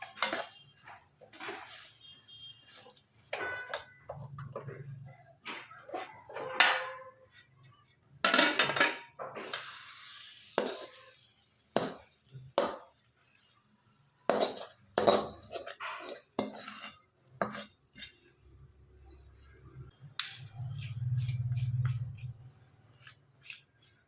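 Hot sesame chikki is tipped into a tray and spread flat, making irregular metallic scrapes, taps and clinks of a utensil against the tray, fairly close and quiet with pauses between strokes.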